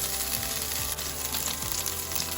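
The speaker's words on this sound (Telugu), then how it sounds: "దీంట్లో వెల్లుల్లి ముక్కలు, కొంచెం అల్లం వేగిపోయాయి" Chopped garlic and a little ginger fry in oil and homemade butter for pav bhaji, giving a steady close sizzle with a soft crackle running through the whole stretch and no voices.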